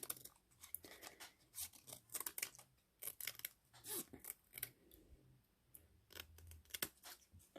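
Scissors snip paper into long wavy seaweed shapes for an ocean-themed card, a quiet run of close, crisp cuts and rustles in an irregular rhythm.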